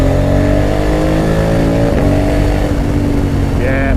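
A 2020 Honda Africa Twin 1100 motorcycle engine revs loud and close under throttle, a steady droning roar that shifts pitch partway through.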